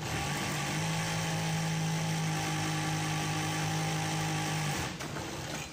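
A sewing machine stitching a rickshaw hood runs steadily with a loud, even mechanical whir for about four seconds, then stops, with no talk.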